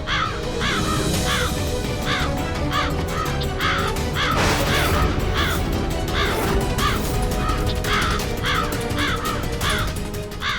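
Repeated harsh crow caws in a steady run over a dense, noisy background with music-like tones, continuing loud throughout.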